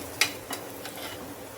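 Bottle gourd bites shallow-frying in a spoonful of oil, a soft continuous sizzle broken by a couple of sharp taps as pieces are flipped in the pan.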